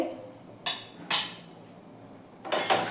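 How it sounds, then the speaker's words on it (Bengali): A metal lid clanks onto a cooking pot of homemade tomato ketchup on a gas flame, then scrapes as it is lifted, giving three short separate metallic clatters close by with quiet gaps between them. "আমি একটা ঢাকনা দিয়ে ঢেকে দিলাম ঢাকনাটা একটু তুলে"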